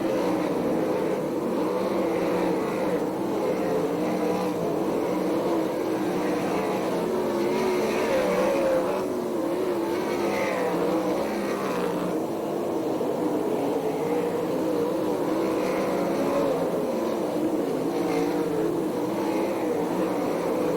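ASCS sprint race cars roar down the back straightaway at Perris in a lapped pack, a dense, continuous engine drone that swells and fades as cars pass at a distance.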